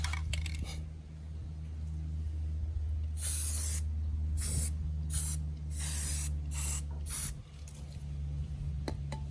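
An aerosol can sprays paint onto metal patio posts outdoors, several short hissing bursts in a row with pauses between, close and fairly loud over a low background hum.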